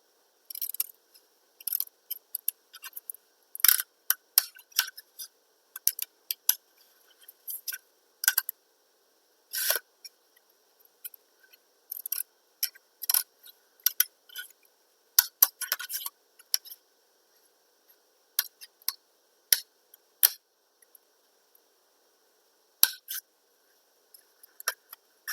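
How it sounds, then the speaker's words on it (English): Scissors cutting long jagged V shapes from paper rolls for a dragon marionette's jaws, heard as clusters of short, crisp snips with quiet gaps in between. "cut 2 long jagged V shapes out of one of the rolls to make the dragon's"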